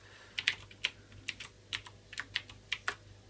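A password is typed on a computer keyboard, a series of sharp, quiet key clicks in an uneven rhythm, about a dozen presses close to the microphone with no talk.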